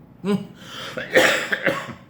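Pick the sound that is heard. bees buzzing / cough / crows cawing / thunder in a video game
cough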